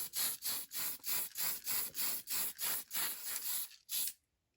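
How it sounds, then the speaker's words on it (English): Fine surface primer is sprayed from an aerosol can onto a vintage Mac 512Ke computer case in about ten short, even hissing bursts with brief gaps, then stops into silence. "This is just some fine surface primer. And we're just going to spray this area."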